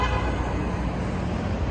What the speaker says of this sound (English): Fucking honking at me.